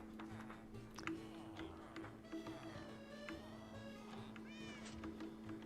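A Minecraft cat meows repeatedly in a base on the 2b2t server, several faint drawn-out mews at irregular intervals over a low steady game hum, with no talking.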